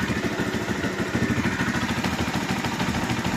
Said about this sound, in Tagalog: pag sa makina kayo nakinig wala namang kakaiba